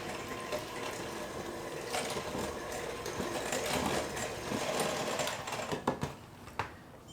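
Milk and wet ingredients are mixed together for blueberry buckle batter, a continuous close whirring churn that builds gradually, with a few sharp clinks and knocks near the end.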